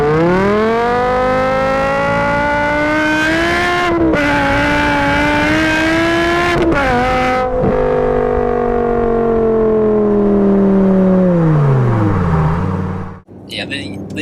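A BMW E60 M5 V10 with straight pipes and the rear muffler deleted revs hard, its loud harmonic engine note climbing and falling through gear changes, close and continuous, then dropping away near the end.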